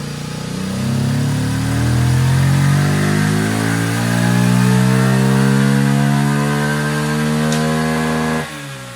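A Honda XR150 motorcycle engine with a 222cc big bore kit revs hard in third gear, a loud, close, rising drone that climbs steadily for about eight seconds before cutting back sharply.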